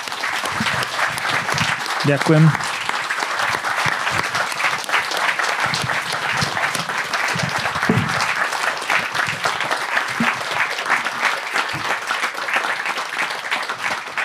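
An audience applauds a guest at the close of a live Slovak talk show recorded in Banská Bystrica, sustained even clapping filling the room, with a brief spoken thanks heard over it near the start.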